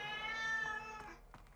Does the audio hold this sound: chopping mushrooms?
no